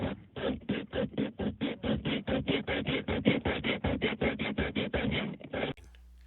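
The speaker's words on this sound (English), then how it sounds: "Now with a strip of sandpaper, sand the area completely, front and back, so you can remove the foam and get to the raw plastic fittings or hose." A strip of sandpaper rubs back and forth over a plastic spa plumbing fitting to strip away foam, producing steady rhythmic rasping strokes, close and fairly loud, about two per second, with no talking.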